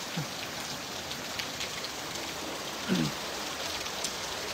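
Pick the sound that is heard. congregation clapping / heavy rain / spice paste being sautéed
heavy rain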